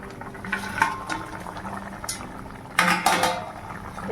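Raw banana fritters simmering in a curry with ghee, garam masala and a little sweetener, steady low bubbling in a pot with clinks of pots and utensils and a louder burst of activity near the end.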